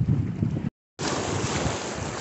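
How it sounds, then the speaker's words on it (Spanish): Waves on a fairly rough sea, heard from a fishing boat, come as a broad rushing wash mixed with heavy wind buffeting the microphone, loud and continuous apart from a brief dropout, with no talking. "Hoy siento que está como que el oleaje un poco fuerte"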